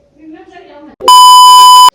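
A phone rings once with a loud, steady electronic beep tone lasting almost a second, right after someone speaks briefly and pauses.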